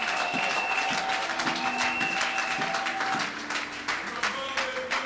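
A church congregation applauds during a Sunday worship service, a steady patter of many hands clapping throughout, layered with sustained musical tones and scattered voices.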